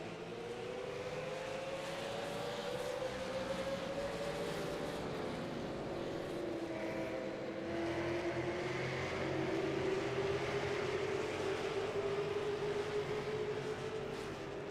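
Race cars circling at North Wilkesboro, engines droning steadily from a distance with pitch sliding up and down through corners, a continuous layered roar of several cars without voices.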